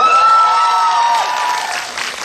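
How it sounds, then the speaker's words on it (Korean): Loud, steady clapping from an audience at a film talk event, a dense wash of applause that slowly tapers, with a faint tonal whine running through it. "축하의 박수 한번 드릴까요?"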